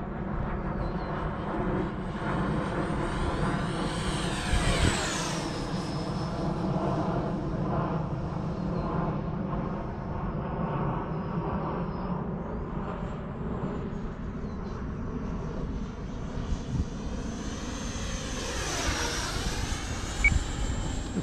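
A Freewing L-39 jet flies in the FMS flight simulator on a 7S setup, its engine roaring and whining steadily, rising in pitch as it sweeps past around the 5 and 19 second marks.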